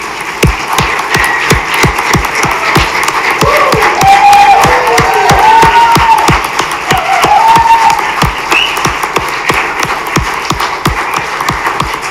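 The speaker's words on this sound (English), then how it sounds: "Let's give them one last round of applause." A graduation ceremony audience for a school district program gives a loud, sustained round of applause, dense clapping mixed with some cheers and crowd voices continuing for over ten seconds.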